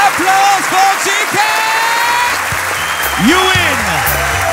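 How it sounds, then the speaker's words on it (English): An audience at a cruise event breaks into applause that holds steady at close range, mixed with an amplified voice and music. "Applause for GK!"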